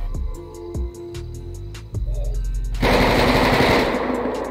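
Rifle gunfire in a GTA V roleplay bank robbery shootout: a few sharp single shots, then a loud, dense sustained burst of automatic fire that runs to the end.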